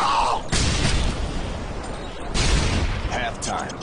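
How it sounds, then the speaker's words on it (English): A stun grenade blasts during a Modern Warfare 2 multiplayer match, two loud broadband bursts in a dense wash of gunfire and combat noise. "Throwing a stun grenade!"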